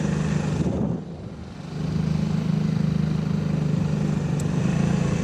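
A junkyard motorcycle engine hums steadily as it rides in small circles, its drone dipping briefly around the first second and then rising back to a constant close idle-like buzz.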